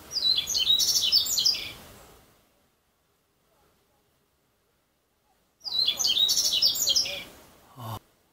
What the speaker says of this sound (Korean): 잠깐만 새소리가 들리는데?